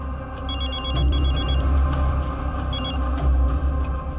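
A telephone rings in two short bursts of bright trilling tones over a low background rumble.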